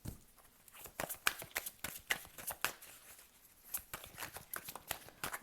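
Tarot cards are shuffled by hand in a quick, irregular series of crisp slapping and riffling bursts, close up and fairly quiet, with no talk over them.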